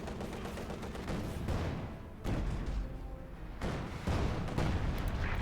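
Sturmpanzer artillery fire in Company of Heroes 2 during a Wehrmacht-versus-Soviet match: several heavy, booming blasts erupt amid a steady wash of battlefield gunfire, with the loudest impacts near the end.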